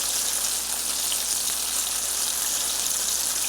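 Chicken fried steak sizzles in hot grease in a pan, a steady bright crackling hiss with fine popping that runs continuously and close, with no talking over it.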